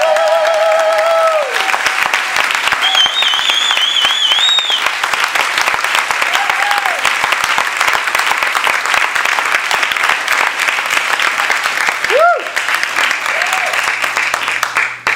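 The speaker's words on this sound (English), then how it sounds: "Can we please have a round of applause?" A sustained round of applause from an awards ceremony audience, dense steady clapping filling the room for about fifteen seconds, with a few voices and whistles rising over it.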